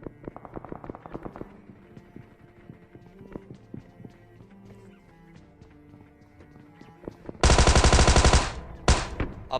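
Scattered in-game sounds from PUBG on the Erangel 2.0 map, then a loud, dense burst of rapid gunfire lasting about a second, a short pause, and a few more sharp shots.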